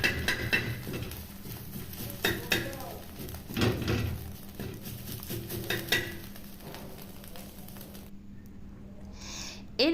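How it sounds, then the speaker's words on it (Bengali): A metal spatula scrapes and taps as it breaks up a frying egg in an oiled pan, with repeated close scraping strokes over a constant sizzle, then a quieter stretch at the end. "ডিমটি মোটামুটি ভাজা হয়ে গেলে আমি খুন্তির সাহায্যে ডিমটিকে ঝুড়ো ঝুড়ো করে নেব"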